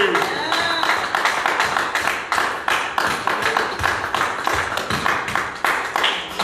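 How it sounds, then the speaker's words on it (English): A church congregation claps hands in praise during a sermon, a steady, fairly loud rhythmic beat of many hands repeating about every half second, with a sustained, roomy crowd wash underneath. "give God a hand clap of praise"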